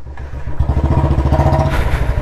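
A motorcycle in first gear rides slowly through a residential colony, its engine giving a close, steady, loud thumping beat with a lumpy rhythmic pulse and no talking.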